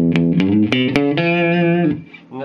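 Clean electric guitar tone through a Marshall MG50 DFX amplifier, a few sustained notes and chords picked in quick succession, ringing clearly with bright harmonics and fading toward the end.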